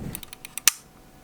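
Mechanical film advance lever on a film camera being wound, a quick run of about six dry clicks ending in a sharper snap, close and alone in a quiet room.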